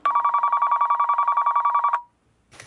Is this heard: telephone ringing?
yes